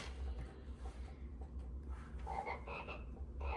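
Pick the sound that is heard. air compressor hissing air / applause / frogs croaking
frogs croaking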